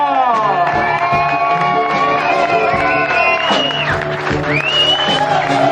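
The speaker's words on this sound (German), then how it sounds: "Also mehr Applaus wie bei dir" Lively crowd at a Christmas carnival show claps, whoops and shouts for frontman Markus Wenger, loud sustained applause and cheering filling the whole stretch with voices mixed in.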